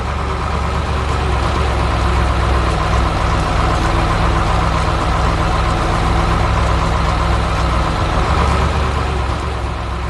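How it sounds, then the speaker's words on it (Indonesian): A garbage truck engine runs at a steady, loud idle with a deep, constant rumble and no break in the sound. "Sekarang giliran truk sampah yang bekerja keras."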